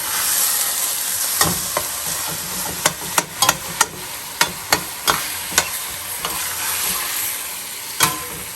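Meat frying in a pan for a pasta sauce, with a steady sizzle punctuated by a rhythmic series of sharp spatula knocks and scrapes against the pan, close and loud, no talking.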